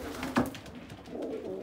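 Pigeons in a breeding loft give a brief throaty coo near the start, followed by softer cooing murmurs against a low, steady background of loft noise.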